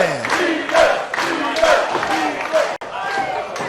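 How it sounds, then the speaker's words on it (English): Wrestling crowd at a tag title match roaring and chanting in a small packed venue, loud dense cheering with shouts, commentary voices running over it. "listen to the crowd behind the leaders here"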